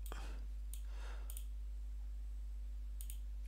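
Computer mouse clicking on a product entry in KNX diagnostic software, a few sharp, close clicks spaced irregularly over a faint steady hum, with no talk.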